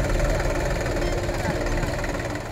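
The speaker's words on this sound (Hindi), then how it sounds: "बिना ड्राइवर के ही चल रहा है ट्रैक्टर।" A driverless tractor ploughing a field on its own in a Rajasthan village, its engine running in a steady, close, rough idle-like rumble throughout with no pauses.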